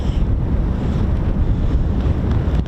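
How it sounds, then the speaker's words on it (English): Steady wind buffeting an outdoor microphone at an airbase airfield, a continuous low rumbling roar with gusty fluctuations throughout and no voices. "When did that wind just start arriving?"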